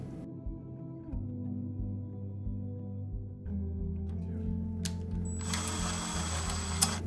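A ratchet drives a hex screw into a fan blower, giving close, repeated clicking turns with mechanical rattles and a brief louder burst near the end.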